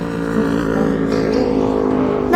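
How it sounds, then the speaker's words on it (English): A motorcycle engine sound effect holds a steady, loud droning tone, revving slightly as it runs for a couple of seconds with no voice over it. "Motorcycle."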